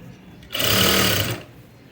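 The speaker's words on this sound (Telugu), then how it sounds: "ఇలా ఫోల్డ్ చేసుకుని నీట్గా స్టిచ్ చేసుకుంటూ వెళ్ళిపోండి" A sewing machine runs in one steady burst of about a second, stitching along folded fabric piping, loud and close with quiet before and after.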